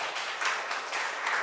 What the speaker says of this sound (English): let's have a big round of applause to the panel